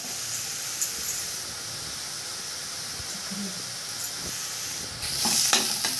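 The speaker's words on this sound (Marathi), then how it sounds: "कांदा आपण छान परतून घेतला आहे" Chopped onion sautéing in hot oil for stuffed bitter gourd, a soft continuous sizzle and hiss with scattered clicks of stirring, growing a little louder near the end.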